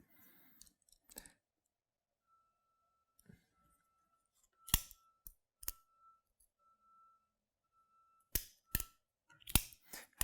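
A pocket knife blade opening and closing gives sharp metallic clicks and snaps, scattered singly and in pairs across a quiet background with a faint steady tone.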